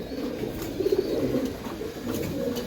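Giribaz pigeons coo softly in a cage, a few low rolling coos close by against a faint background hum.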